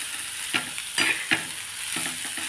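Onions frying in a pan for a Khandeshi bitter gourd curry, giving a soft steady sizzle with a few scraping stirs of a spoon against the pan, close and fairly quiet, with no voices.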